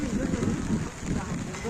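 Heavy rain pours down on an open-air cricket match, a dense, steady wash of rainfall noise that runs the whole time while a commentator's voice talks over it.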